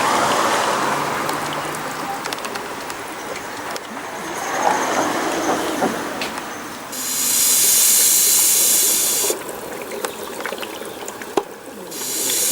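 MityVac pump extractor drawing engine oil out of an Audi or VW 2.0T turbo engine, with a steady hissing, gurgling suction and a louder rushing burst partway through.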